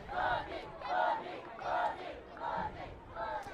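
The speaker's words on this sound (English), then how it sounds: "You can hear the crowd giving their chant of approval for getting T-Bug in." Crowd at a Westfield at Richland Center football game chanting in approval as a player enters late in the game, a rhythmic chant of about five swelling repeated phrases, loud and fairly close with no talk over it.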